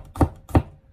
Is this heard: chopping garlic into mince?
yes